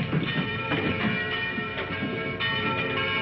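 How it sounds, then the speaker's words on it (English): A tower bell rings on its own with no one pulling the rope, rich sustained tones humming and overlapping in a dense, steady wash, loud and continuous throughout. "the bell that rang with no man alive to pull the rope"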